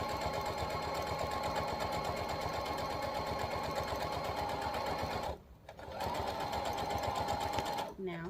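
A sewing machine runs a long straight stitch down fabric for a key fob, a fast even mechanical whir that pauses briefly twice, with faint talk in the background.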